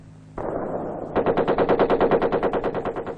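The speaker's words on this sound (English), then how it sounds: "Nothing like real bullets flying overhead to teach a man to keep his head down." Loud, close automatic gunfire during live-fire military training for rangers with Australian Army advisors, a rapid, steady stream of shots that starts after a moment of lighter noise and continues without pause.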